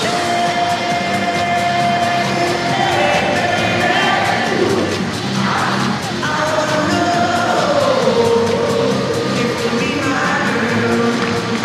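A stadium crowd at a Savannah Bananas game at Grayson Stadium cheers, yells and whoops in a loud, sustained wash of noise, with a few louder shouts rising out of it.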